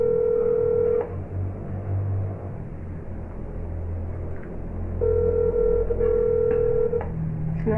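A phone dials out to call someone, with steady tones and dialing beeps sounding loudly over a low rumble, in two separate bursts and no talk.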